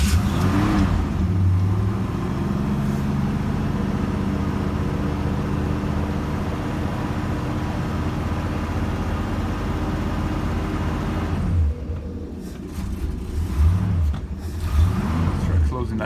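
A car engine runs on choke at its first start of the season, a close, steady rumbling idle with brief revs and a dip toward the end.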